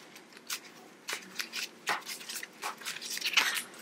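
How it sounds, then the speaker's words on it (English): A deck of Yu-Gi-Oh! trading cards being shuffled by hand in quick, crisp riffles and rustles, about a dozen short bursts over a few seconds, close and fairly quiet with no talking. "So we're going to shuffle the deck"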